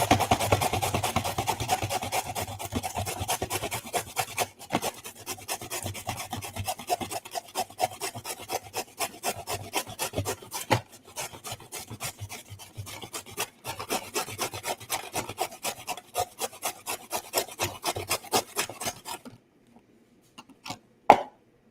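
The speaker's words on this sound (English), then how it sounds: "Just grating carrots." Carrots being grated for carrot cake, a rapid, steady run of close rasping strokes against the grater that continues for most of the span before stopping, followed by a few isolated knocks.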